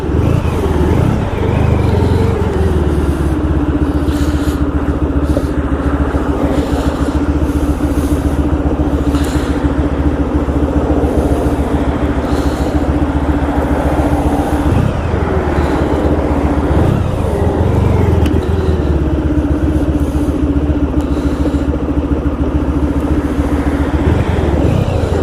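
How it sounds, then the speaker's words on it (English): Continuous road noise while riding a 1994 Honda ST1100 motorcycle in heavy weekend traffic: a loud, steady engine drone with wind roar, and the pitch drops and rises again as the bike slows and speeds up. "It's a lot of traffic because all the people that came out for the weekend starting to leave."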